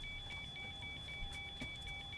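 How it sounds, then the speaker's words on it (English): A steady, repeating electronic beep pulses at an even rhythm over a low, constant hum during a Zibo 737 flight simulator session; the beeps are thin and moderately faint, with no talking. "What's that beeping noise?"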